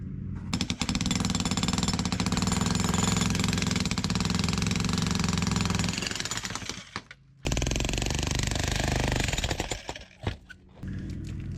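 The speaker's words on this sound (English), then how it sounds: "I need to do some more jackhammering" Jackhammer pounding and breaking up concrete around a drain during a renovation, a loud continuous close-up rattle that stops briefly near the end, then resumes in short bursts.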